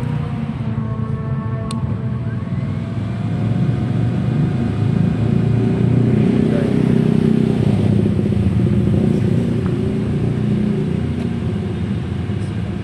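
Kawasaki ZX25R motorcycle fitted with a LeoVince full exhaust system idles with a steady, loud engine rumble throughout, swelling slightly mid-way with light revving and no talk over it.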